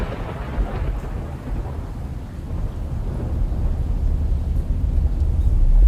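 A thunderstorm with rain brings a continuous deep rumble of thunder over a steady wash of rainfall that slowly swells louder.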